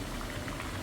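Chickpea vadas bubble and hiss as they deep fry in hot oil, a dense, even frothy crackle heard only briefly.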